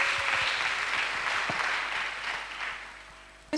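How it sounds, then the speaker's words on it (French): A crowd at a Friday night prayer service in Abidjan claps steadily for a few seconds, the applause fading slightly toward the end. "Acclamation à Jésus-Christ."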